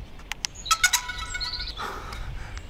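A DJI Mini 3 Pro drone sounds its new startup tune, a brief run of chirpy electronic blips and tones resembling bird tweets, fairly faint and close, ending in soft noise.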